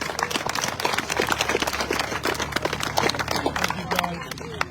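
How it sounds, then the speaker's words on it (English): Audience applause at the 2024 Dakota Park rededication ceremony, steady dense clapping throughout, moderately near, thinning slightly at the end with voices mixed in. "One more round of applause for John Liffrick"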